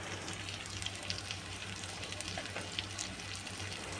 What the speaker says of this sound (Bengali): তো এই মশলাগুলোকে আমি চিংড়ি মাছ শুটকিটার সাথেই ভেজে নেব